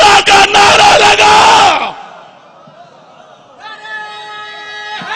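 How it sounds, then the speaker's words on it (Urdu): Large crowd at a Shia Eid-e-Ghadeer religious gathering roars a slogan in unison, loud and dense for about two seconds, then drops away to quiet murmur before a faint sustained tone enters. "یہ پھر لگا نعرہ"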